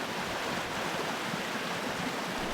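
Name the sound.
spring-fed creek water splashing at Big Hill Springs Park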